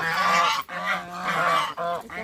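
Several geese honk loudly and close by in a rural village lane, harsh nasal calls in three quick overlapping bursts with brief gaps between.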